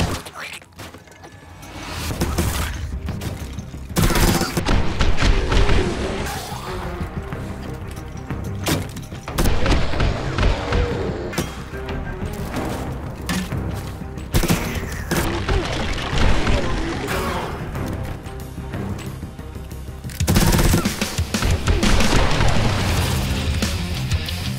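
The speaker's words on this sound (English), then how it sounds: "let's just gun this place down" Rapid gunfire in the survival video game 7 Days to Die with a Fallout-style wasteland mod, dense bursts of shots and impacts crowding together, loud and continuous with short pauses between volleys.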